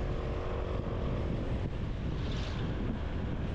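Strong wind buffets continuously during a motorcycle ride, a loud low rushing roar that stays steady throughout with no speech.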